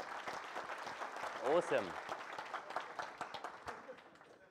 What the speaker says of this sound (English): you need to give them a round of applause